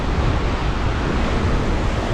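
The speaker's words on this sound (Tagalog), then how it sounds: "Pangit ng panahon pala ngayon sa dagat, oh. Grabe. Oh, grabe. Ang laki ng alon." Big sea waves roll against a stormy coast near a bridge construction site, a loud, continuous roar of surf with rough wind buffeting the microphone and no voices.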